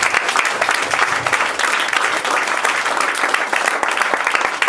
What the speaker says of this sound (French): Est-ce qu'on peut acclamer le roi